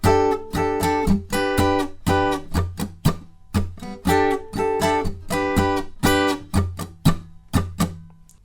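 A bar of muted funky guitar strumming played twice through, crisp percussive chord chops in a tight repeating syncopated groove, near and alone.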